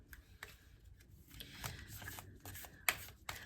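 Brand new Sunstone oracle cards, slightly stuck together, being handled and shuffled up close, giving a run of soft papery flicks and riffles with a few sharper snaps.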